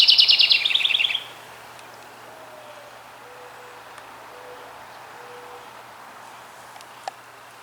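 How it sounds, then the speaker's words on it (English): Birds nesting in garden birdhouses chirp in a quick, high, rapid trill for about a second, then fall quiet under steady outdoor background hiss with faint distant calls. "I have lots of birds nesting in the birdhouses, so they are quite vocal."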